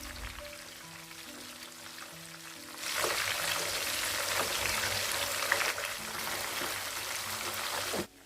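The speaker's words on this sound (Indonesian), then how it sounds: "sekarang saya mau goreng ayamnya dulu nih teman-teman" Chicken pieces drop into hot oil and burst into a loud, crackling sizzle that holds steady for several seconds after a quieter, humming lead-in, then cuts off abruptly.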